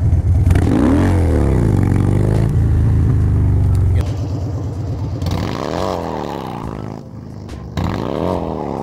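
Harley-Davidson Dyna Street Bob motorcycle engine during beginner wheelie practice, loud throttle blips rising and falling in repeated revs with rumbling idle between them, close to the listener.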